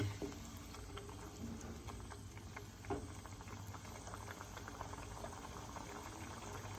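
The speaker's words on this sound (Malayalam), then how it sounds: "നമ്മളെ കറിയൊക്കെ തിളച്ച് വന്നിട്ടുണ്ട്" A coconut-milk chicken curry bubbles in a pot at a steady simmer, close and quiet, with soft irregular pops and gurgles over a low hum.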